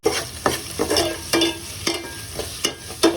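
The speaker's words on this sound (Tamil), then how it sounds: "ஸோ ஆனியன் நல்லா வதக்கி கொடுத்துடலாம்" Onions with a little salt sauté in a pan for egg bhurji, sizzling steadily up close while a spatula scrapes and stirs in quick, regular strokes.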